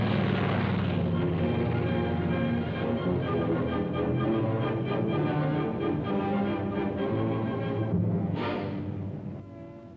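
British fighter aircraft engines in wartime flight, a steady droning roar that holds throughout, with a rising whine near the end, no voices.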